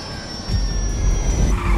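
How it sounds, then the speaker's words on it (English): A failing plane engine in Grand Theft Auto V, a steady loud jet roar with a thin high whine that swells into a heavier rumble as the aircraft goes down. "Engine's gone. Plane's coming down."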